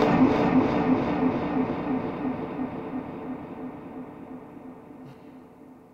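Clean digital delay on a Teenage Engineering KO II: a bright repeated note trails off in crisp, distinct echoes that fade steadily over several seconds, sounding alone without any talk.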